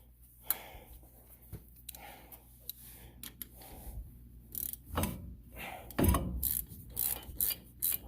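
A ratchet with a deep-well socket works a bolt on a Ford F150 4x4: soft, uneven bursts of raspy clicking and scraping, growing busier and louder toward the end against a quiet background.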